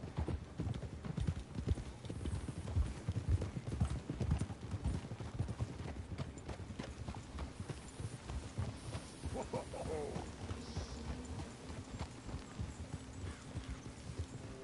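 Horses' hooves clop steadily through grass at a walk in the video game Red Dead Redemption 2, with a low hum underneath and a faint distant whinny.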